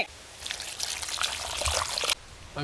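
Plain water is poured into wheat flour for poori dough, making a short close trickle that splashes steadily for about two seconds and then stops abruptly.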